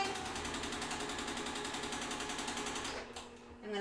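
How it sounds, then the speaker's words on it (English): Sewing machine stitching half square triangles for a quilt block, a fast even needle rattle running for about three seconds before stopping abruptly, close and fairly quiet. "I have my machine already set up and just gonna get ready to sew some half square triangles"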